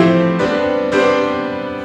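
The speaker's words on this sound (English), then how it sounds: "a little motif. This is the sound of the Wicked Witch" A short musical motif representing the Wicked Witch from Wicked. Sustained, loud harmonic tones shift twice in quick succession, a brief figure less than two seconds long with no voices.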